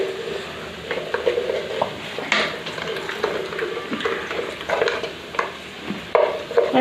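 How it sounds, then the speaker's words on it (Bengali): A potato dish frying in a pan, a soft continuous sizzle under repeated clinks and scrapes of a utensil stirring against the pan, close and moderate in volume. "এবার জাল দিয়ে সেটাকে ভেজে নিচ্ছি।"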